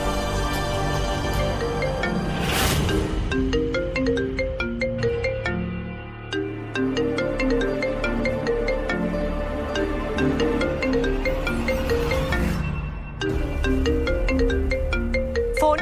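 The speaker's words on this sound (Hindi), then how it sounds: "जुगल सर से जगदीश अंकल का नंबर निकालकर फोन करते हैं।" A mobile phone ringtone plays a repeating melodic tune over about sixteen seconds, loud and close, ringing on with no one picking up and no voices over it.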